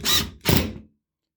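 A cordless power drill drives screws into a wall to mount floating shelves, two short whirring bursts with a brief pause between them, loud and close, then silence.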